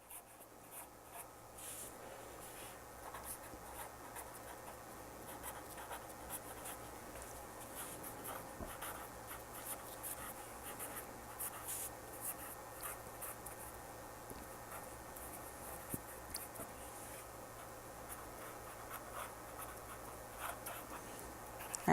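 Pencils or pens scratching on paper as grade 4 and 5 students write during a classroom lesson, a steady, quiet scratching texture with a low background hum and no talking.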